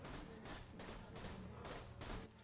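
A slow-firing pistol in Borderlands 2 lets off about four heavy shots in an even, unhurried rhythm, each a broad loud burst over dense game noise, with no talk over them.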